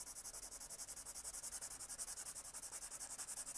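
Pencil graphite being rubbed back and forth over transfer paper, a fast regular scratchy rasp with evenly pulsing strokes, close and faint, with no talk.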